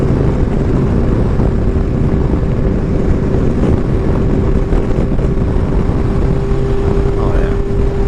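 2016 Kawasaki Ninja 1000 motorcycle cruising in sixth gear, a steady loud engine drone buried in heavy wind rush from riding at speed, constant throughout.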